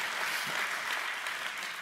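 Applause from a church congregation during a worship service, a steady wash of many hands clapping at moderate distance with no break, no voices over it.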